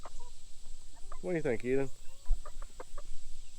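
A newly hatched young chicken on a small farm clucks in a few quick bursts near the middle, with people talking softly around it.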